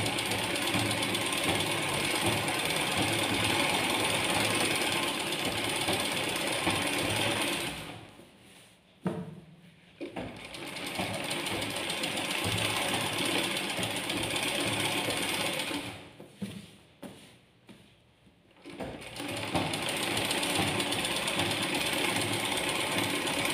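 A sewing machine stitches two spread-out pieces of blouse cloth for an aari-work blouse, running in steady mechanical bursts with two short pauses, close and fairly loud, with no talking.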